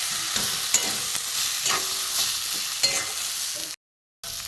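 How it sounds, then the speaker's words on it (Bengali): Grated potato with coriander and garam masala being sautéed, giving a steady, close sizzling hiss with soft stirring scrapes. It cuts to silence briefly near the end. "দিয়ে আমি ভালো করে কষিয়ে নেব"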